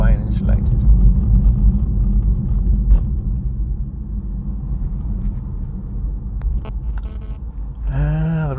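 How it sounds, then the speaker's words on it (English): Front-wheel road roar from a BMW i3 cruising at about 40 mph, a steady low rumble and hum that holds constant throughout, with a brief higher sweep near the end. "the only noise is coming from the wheels, and it's the front wheels"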